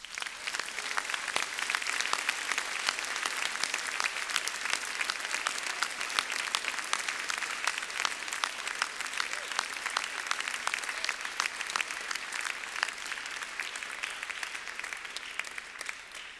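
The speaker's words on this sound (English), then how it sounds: "express your gratitude by a round of applause" Graduation ceremony audience at Monash gives sustained applause for family and friends, a dense, steady wash of clapping hands lasting throughout at fairly even loudness with a faint crowd murmur underneath.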